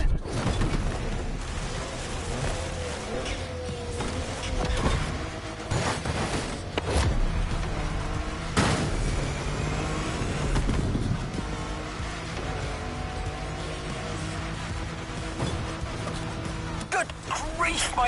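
A car in The Crew Motorfest racing game driven flat out downhill, loud engine roar with sharp bangs and impacts along the way, someone talking over much of it.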